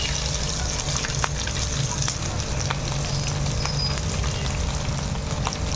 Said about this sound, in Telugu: ఇది ఈ ఆయిల్లో బాగా వేగాలి ఇప్పుడు